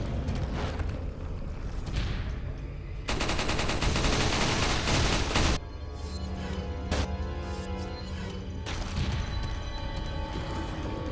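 Gunfire in Resident Evil 4 played as a New Game Plus speedrun, with loud dense rapid shots filling a burst of a few seconds between quieter game sounds, and no talking.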